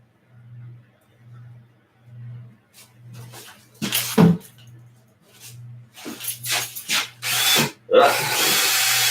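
A power drill mixes epoxy in short whirring bursts, first faint and regular, then louder and more uneven as the mixer scrapes and churns, with a low steady hum underneath.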